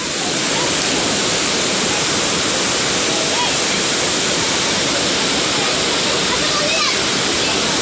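A stream rushes loudly and steadily, a dense continuous wash of flowing water close by with no pauses.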